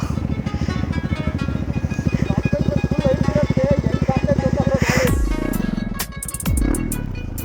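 A motorcycle engine chugs in rapid, even pulses close by, then cuts out abruptly, followed by a few knocks and rustles.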